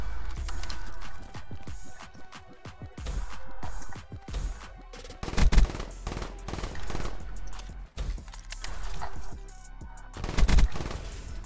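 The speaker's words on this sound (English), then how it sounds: "You can tell there's like rapid fire on it." Rapid-fire gun shooting in an online 2v2 shooter video game, with dense bursts of automatic fire running throughout, loud and close, punctuated by a couple of heavier impacts.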